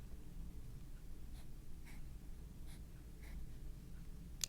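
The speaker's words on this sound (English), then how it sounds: "So we're going to draw a zigzag line there." A pen draws a zigzag line on paper, giving a few faint, evenly spaced scratchy strokes over a low steady room hum.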